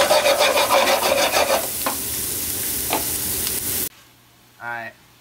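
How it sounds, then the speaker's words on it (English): Onions, garlic and shallots hitting a hot pan for bacon jam, with a loud, close crackling sizzle that settles into steadier frying with stirring scrapes, then cuts off, and a brief voice follows. "We're going to add our onions. Our garlic and shallots."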